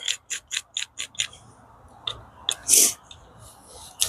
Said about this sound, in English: I'm just trying to make some shavings that will hopefully take a spark